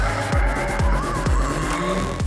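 Race cars at the Race of Champions in London squeal their tyres through a run of quick corners, with engines rasping and several sharp screeches repeating about every half second, loud and close.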